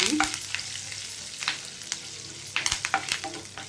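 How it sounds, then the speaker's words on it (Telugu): Dried red chillies and curry leaves fry in a pan with light sizzling while they are stirred, making a series of sharp crackles and scraping clicks close by. "ఇప్పుడైతే నేను రెండు వేసుకున్నాను ఇందులోనే కొంచెం కరివేపాకు ఇవి బాగా వేగనిస్తామండి"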